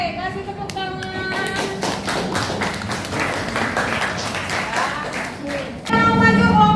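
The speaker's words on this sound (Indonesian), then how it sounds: "kasih tepuk tangan" A classroom of students claps together, a dense burst of many hands under overlapping voices, with a teacher's speech heard before and after.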